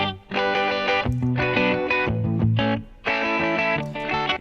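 Pop track with electric guitar and muted acoustic guitar strumming in short rhythmic bursts with brief gaps between phrases, loud and close, no voices.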